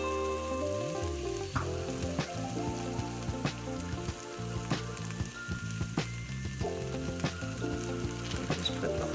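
A pound of ground sausage sizzles as it browns in a soup pot, a steady hiss with scattered pops heard beneath prominent background music.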